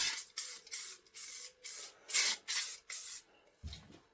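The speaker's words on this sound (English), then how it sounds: "I'm just going to clean them ways down with a bit of WD-40 to pick up any dust." Repeated short hissing bursts of WD-40 sprayed onto the ways of a metal lathe, about eight even spurts in quick rhythm, close and fairly quiet, ending with a brief low rub or clunk.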